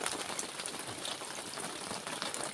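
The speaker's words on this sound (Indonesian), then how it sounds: "hujan guys." Steady rain falls during a tuna fishing outing near Manokwari, making a continuous, dense hiss of drops with no speech over it.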